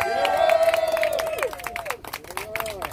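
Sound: audience applause welcoming the speaker

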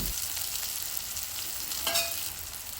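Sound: ingredients frying in a pan for egg khichuri

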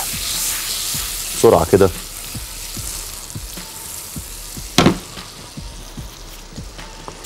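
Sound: butter melting and sizzling in a pan

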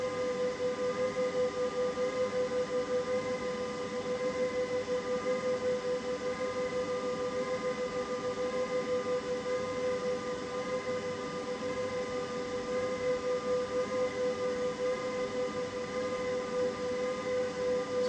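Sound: solar inverter running loudly under load

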